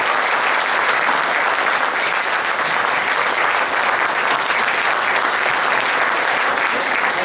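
A large gathered audience at a cryptocurrency seminar bursts into loud, continuous applause, a thick unbroken roar of clapping that stays even throughout.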